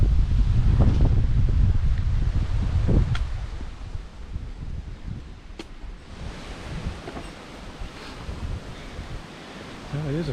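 Strong, steady wind roars and buffets the microphone on a mountain ridge trail in Shenandoah National Park, loudest at the start and easing slightly, with faint rustling and no talk.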